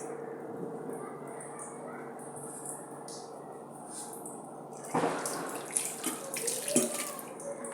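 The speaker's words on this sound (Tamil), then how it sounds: "ஃபஸ்ட்டு தண்ணி ஊற்றி நல்லா மிக்ஸ் பண்ணிக்கலாம்." Steady running water pours into a bowl of batter for Maddur vada, a continuous wash that grows louder and splashier toward the end, with no voice over it.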